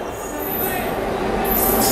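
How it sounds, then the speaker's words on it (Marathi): A train pulling in at platform 3 of Jalgaon railway station, a loud continuous rumble with high metallic wheel squeal rising near the end, close by. "प्लॅटफॉर्म नंबर 3 वर पण ट्रेन आली आपली एक दुसरी"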